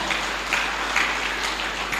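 Steady, dense applause fills a church worship service, a loud continuous wash of many hands clapping from the congregation with no break for the full length.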